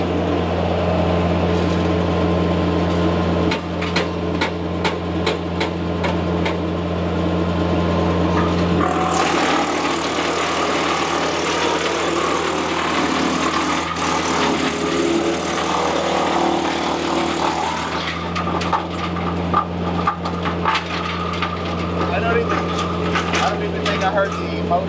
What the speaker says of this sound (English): I heard the motor of the tractor, the engine of the tractor